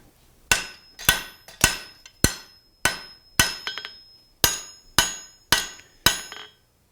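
Ten sharp metallic hammer strikes ring out on the head of a nail held in a bar over an anvil, evenly spaced with a short ringing decay after each blow, close and alone.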